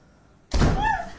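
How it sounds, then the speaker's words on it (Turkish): A door in a horror film jolts as someone tries to force it open, a sudden loud thud after near silence, followed by a rattling, ringing tail. "Biri kapıyı açmaya çalışıyor."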